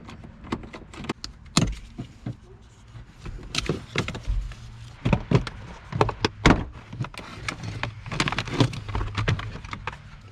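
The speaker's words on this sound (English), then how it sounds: "So I'm just gonna pull this panel off somehow." Plastic door strap panel on a Jeep Wrangler JL door is pried and pulled off, making a series of sharp clicks, snaps and rattling knocks, close and irregular, with no talk.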